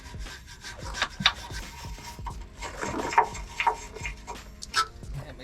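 Stiff brush scrubbing old dry grease out of a Toyota Tacoma lower control arm, a run of close, irregular scratchy strokes with sharper rubbing bursts throughout, no talking.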